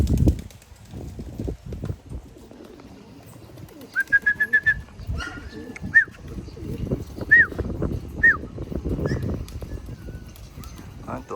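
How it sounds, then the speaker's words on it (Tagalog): Pigeons flying free outside a house, with a few brief rising whistle-like calls over steady outdoor rumble and rustling, and a voice faintly in the background. "Tuwang to si Borga, nakalabas mga kalapatids, oh."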